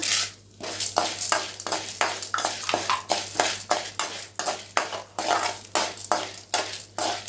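Urad dal and chana dal dry-roasting in a pan are stirred with a spatula in a fast, steady rhythm of scraping, rattling strokes, close and clear with no voices.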